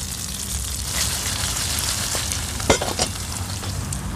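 Onion, garlic and chili sautéing in a pan outdoors, a steady loud sizzle throughout with a few brief scraping clicks of stirring near the end.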